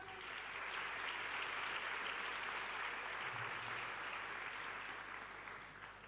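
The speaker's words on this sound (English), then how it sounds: "I think she deserves a round of applause." A conference audience applauds a young speaker named Banner at an education event, steady dense clapping throughout, fairly quiet and distant, with no talking over it.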